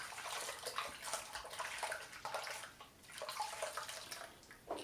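Running water from a tap splashes over a hand being rinsed of thick shaving lather, a steady, fairly quiet hiss and patter lasting throughout with no talking.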